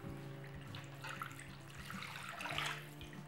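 Warm milk pours into a mixing bowl of salt, yeast, sugar and butter for a soft country-style milk bread dough, a steady close trickling splash with no talking.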